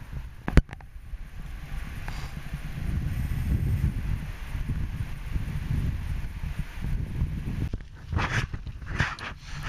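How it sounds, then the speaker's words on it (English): Strong wind blasting off a mountainside buffets the microphone in a steady low roar for most of the clip, with a sharp knock near the start and some rustling toward the end. "I'm being blasted by wind off the mountain"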